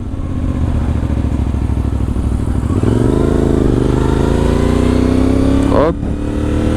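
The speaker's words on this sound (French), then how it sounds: "L'échappement fait un joli bruit. C'est un échappement qui est homologué" A CF Moto 450MT motorcycle with a road-legal homologated exhaust idles close by, then revs up and holds a steady, loud engine note that briefly dips and picks up again.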